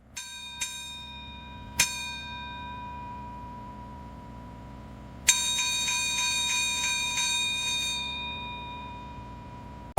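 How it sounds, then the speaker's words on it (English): A small brass bell struck three separate times, each strike a sharp ringing tone that decays slowly, the last one ringing longer and brighter, heard up close with no voices. "They walked up to a small brass bell, rang it 3 times, and quit."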